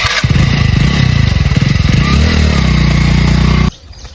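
Motorcycle ridden close by, its engine puttering loud and steady with rough pulsing revs for several seconds before the noise cuts off abruptly near the end.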